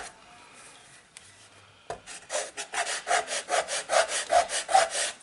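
Coarse sandpaper disc rubbing the sharp edge of a polymer clay piece, starting quietly and then settling into a steady run of rhythmic back-and-forth scrapes, close and fairly loud.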